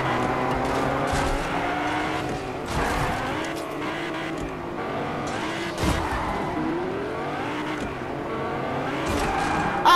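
The Whiplash car in the Fortnite video game drives at high speed with a constant roaring engine, shifting revs and tire squeals, loud and close throughout.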